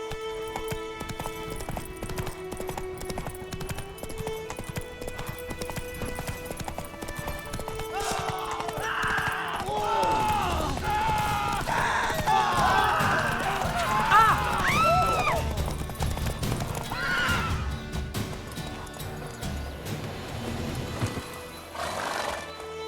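A horse in The Witcher 3 gallops with steady clip-clop hoofbeats and whinnies several times, its neighs loud and close over an orchestral game score, with a voice speaking at moments.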